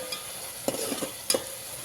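Tomato and onion masala with turmeric frying in oil in a pan: a constant close sizzle broken by two short bursts of stirring clatter.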